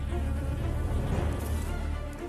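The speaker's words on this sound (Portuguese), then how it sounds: "A humilde abelha japonesa, presa favorita das vespas assassinas." Japanese honeybees buzzing in a steady, dense drone that holds close and even throughout, with no voices.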